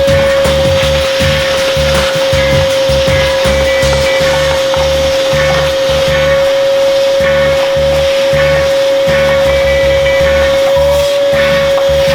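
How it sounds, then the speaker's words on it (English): Steady loud vacuum whine with a constant high tone, running continuously with rhythmic pulsing lower noise as the nozzle moves around a Toyota Supra's trunk. "I'm probably going to vacuum it a little bit"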